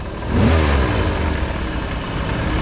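A 1987 Ford Bronco pulled from a junkyard, running with its TPS disconnected, revs up after nearly stalling, then holds a steady, loud, close mid-pitched engine drone with no talking.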